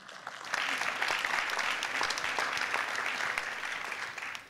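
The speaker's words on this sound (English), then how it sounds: "an applause for her, please." An audience at an organic market conference breaks into applause, a dense wash of clapping that swells quickly and holds steady for a few seconds before tapering off.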